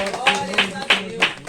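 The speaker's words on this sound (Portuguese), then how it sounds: "Vamos aplaudir o Senhor, vamos nos colocar de pé" A church congregation claps along during worship, four or five sharp, evenly spaced claps standing out over a warm, continuous background of voices and music.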